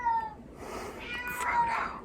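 A pet cat named Frodo meows indoors, giving a couple of clear, fairly close cries with rising and falling pitch, while a faint voice is heard in the background.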